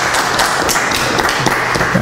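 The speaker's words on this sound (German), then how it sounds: "Und Applaus für Matthias." Audience applause for a presenter at an advanced Vim talk, a loud, steady wash of many hands clapping without a break for about two seconds.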